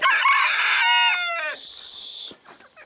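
A rooster crows loudly and close by, one long drawn-out call that breaks and trails off, followed by quieter background noise.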